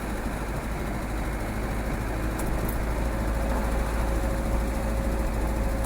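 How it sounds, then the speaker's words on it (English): Land Rover 110 engine running steadily during a test drive on a snowy day, a loud continuous low rumble and drone that fills the whole clip with no speech. "you can't hear over the bloody engine noise"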